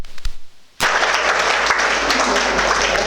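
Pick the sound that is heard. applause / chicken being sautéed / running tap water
applause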